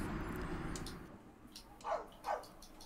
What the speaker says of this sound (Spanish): Dios, ¿se escucha el perro mucho?